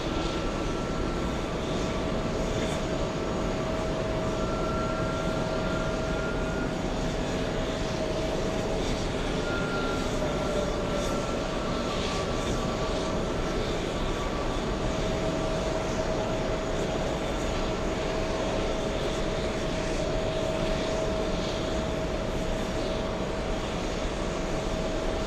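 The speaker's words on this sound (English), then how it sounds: "It's a Delta flight flying in from Los Angeles." A Delta jet arriving from Los Angeles drones steadily overhead near a New York airport hotel, a continuous broad engine roar with a faint steady whine, heard alone throughout.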